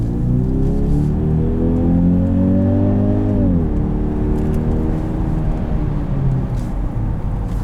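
A 2022 Genesis GV80 2.5T accelerating hard from inside the cabin, engine note rising steadily before a gear shift drops the pitch, then pulling on with road and tire rumble, loud and close.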